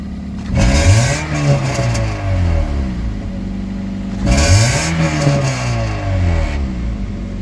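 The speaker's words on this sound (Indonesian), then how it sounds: "Kedengeran nggak suara knalpotnya kayak begitu?" A Toyota Vios Limo's engine revs up twice, the exhaust rising to a rough, throaty, misfiring roar and then dropping back to idle between bursts.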